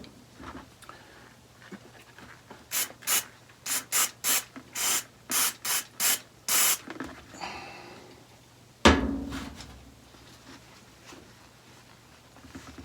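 Great Stuff Pro foam gun cleaner sprays in about a dozen short, sharp bursts in quick succession, followed by a single louder clatter and faint handling noise.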